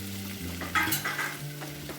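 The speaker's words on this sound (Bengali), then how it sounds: "চিকেনটা একটু এক্সট্রা ফ্রাই করে ফেলেছি আমি, একটু এটার সাথে ভেজে নিই।" Chicken pieces for chilli chicken sizzling in a pan as they are stirred and fried further; a steady close crackle of frying with bursts of spatula scraping and clatter, no talking.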